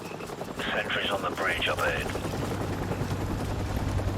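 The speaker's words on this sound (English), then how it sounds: "Squad hides in the bushes as the helicopter passes over by." Helicopter in the Call of Duty Modern Warfare Remastered video game, a steady rotor drone passing near a stone bridge at night, heard under a voice and tense game music.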